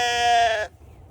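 A sheep on a farm lets out a single loud, close bleat lasting just over half a second, then quiet background.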